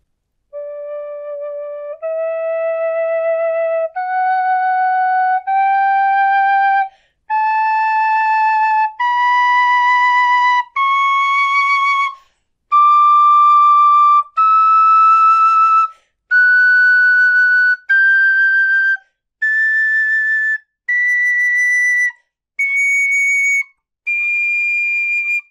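A bright, high brass high-D tin whistle, a Sopros, plays a rising scale of steady held notes, one after another with brief gaps, loud and close with no other sounds.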